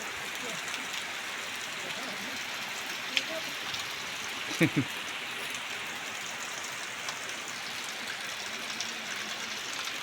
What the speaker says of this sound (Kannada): ಒಂದೇ ಸರಿ ಸರಿಯಾಗಿ ಹಿಡಿತು ಬಿಡಿ ಮಳೆ